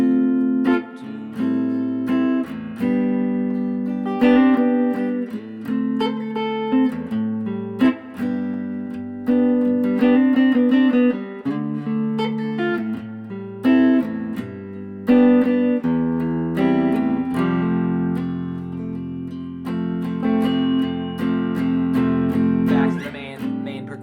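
Guitar chords of a song's bridge strummed and picked in a steady progression, moving through changing harmonies, sustained and fairly loud with no voices.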